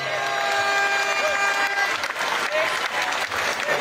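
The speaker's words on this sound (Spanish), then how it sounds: "¡Fuerte aplauso!" Steady crowd applause at a July 20 Independence Day parade in Florencia, Caquetá, Colombia, sustained and fairly loud throughout with a crowd murmur underneath.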